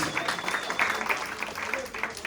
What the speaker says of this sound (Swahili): Mpigieni makofi huyu mzee tafadhali